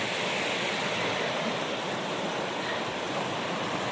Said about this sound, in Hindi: ये एकदम कलकल का बहती हुई नदी